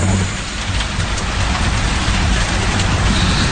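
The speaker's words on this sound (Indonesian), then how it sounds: "Namun hujan malam itu sangat deras." Heavy night rain pours down steadily, a loud dense hiss close by that fills the whole stretch without pause or voices.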